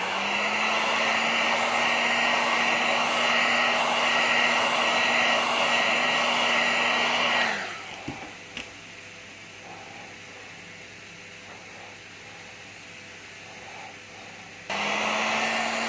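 Hot air blower roaring steadily close by while heating the screen adhesive on a Samsung A30 phone, cutting off about midway to quiet room tone with small handling clicks, then starting up again near the end.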